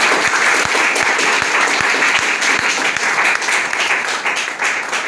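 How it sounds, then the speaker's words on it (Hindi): Audience applause fills a Hindi Day (Hindi Diwas) poetry recital, a steady wash of many hands clapping loud and close throughout, easing slightly toward the end. "तालियां तो आपको बजानी पड़ेगी"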